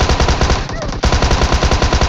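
Loud, close machine gun fire in PUBG Mobile, a rapid continuous burst of shots with a brief pause partway through before the firing resumes.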